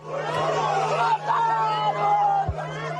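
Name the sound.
crowd crying out in anguish after shooting at campaign event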